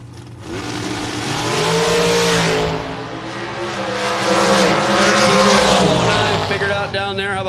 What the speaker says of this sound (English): The M&M chassis, Class 1 transportation dragster.